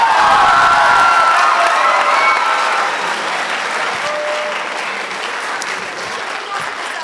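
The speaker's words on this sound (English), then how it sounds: "How many of you, by applause, think that Mr. Marino won this contest?" A school classroom audience applauds and cheers to vote for a contest winner, loud at first with some shouts, then gradually settling into steadier, slightly quieter clapping.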